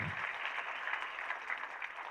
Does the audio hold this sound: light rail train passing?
no